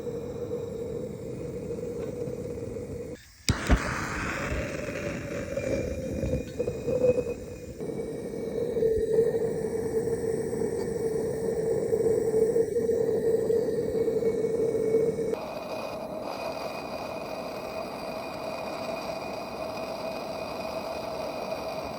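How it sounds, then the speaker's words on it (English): A small homemade dual-stack smudge pot burns with a steady low roar and rumble, a brief knock and flare of noise early on, then a constant broadband hiss that drops slightly in level partway through. "we got the mini smudge pot going"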